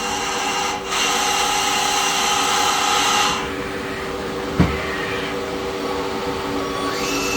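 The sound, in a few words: Citizen Cincom L-20 Swiss-type CNC lathe running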